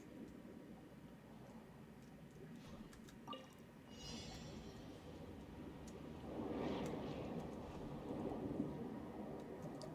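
Steady rain falls in the Genshin Impact game world, a continuous hiss with soft dripping and splashing that swells slightly toward the end, with a few faint chimes and effects over it.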